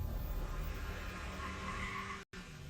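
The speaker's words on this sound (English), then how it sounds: "That is the sound of an 8-speed dual-clutch transmission with a sport-tuned suspension leaping off the line." A sedan with a 2.5-liter turbo engine, 8-speed dual-clutch transmission and sport-tuned suspension launches hard, tires squealing in a loud, sustained skid with engine roar, broken by a split-second dropout near the end.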